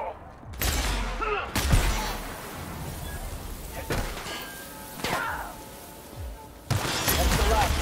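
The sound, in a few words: gunfire in video game The Outer Worlds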